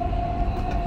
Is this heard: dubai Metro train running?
yes